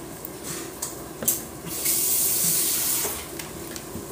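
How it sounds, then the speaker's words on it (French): Water is sprinkled over cooked vermicelli, a soft wet spattering hiss that swells in the middle and fades, with faint utensil clicks nearby. "saupoudrez juste d'eau, comme je suis en train de faire là"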